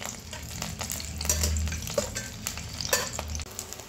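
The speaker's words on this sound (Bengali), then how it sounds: "এখন ডিমটাকে নেড়েচেড়ে ভেজে নেব।" Eggs stirred and fried in hot oil in a pan for egg korma: a steady, close sizzle with repeated scraping strokes of the spatula, and no talking.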